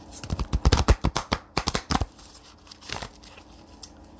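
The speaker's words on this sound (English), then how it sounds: "these are big cards. That's why I have to shuffle them sideways." Large oracle cards are shuffled sideways in quick crisp bursts of riffling snaps, then a few slower slaps and a pause, close up with no speech.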